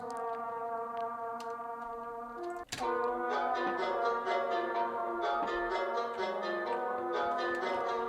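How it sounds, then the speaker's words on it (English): Trumpet run through an RC20 plugin for a fluttering, raw, slightly degraded character, playing sustained layered brass tones that hold steadily, with a brief break and sharp re-entry midway, at a moderate level with no talking. "with the RC20, it just gives a bit more that fluttering sound, a bit more of a raw sound."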